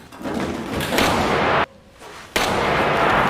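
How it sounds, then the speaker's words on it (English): A loud, booming blast of noise followed by a short lull, then another heavy burst, like gunfire ringing out close by. "Hearing the gunshot"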